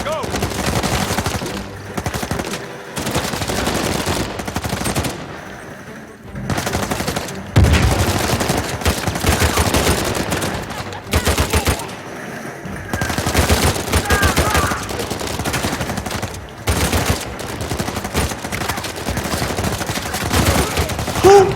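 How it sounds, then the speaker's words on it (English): Enemy gunfire aimed at the player in Uncharted 4, dense automatic bursts and single shots cracking nearby in long stretches with brief pauses, over game ambience. "Who the heck is shooting me?"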